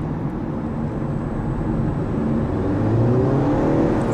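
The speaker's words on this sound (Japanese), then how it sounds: "中のモーターのねチューヒーっていう音がね聞こえてきます" Inside a moving Honda Step WGN Modulo X, a thin electric motor whine rises gradually in pitch over steady road rumble as the car accelerates, with no talking.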